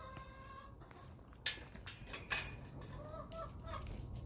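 Chickens cluck and squawk nearby in short bursts and sharp calls over a quiet outdoor background, with a few louder clucks standing out.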